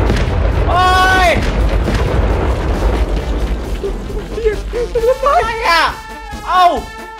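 Explosions go off in the Minecraft video game, a deep booming blast followed by crackling debris, with excited voices shouting over the noise.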